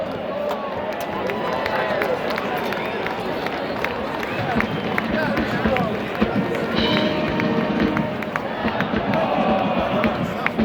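Stadium crowd at West Point on Veterans Day cheering for the Corps of Cadets, a steady roar with clapping and scattered shouts throughout.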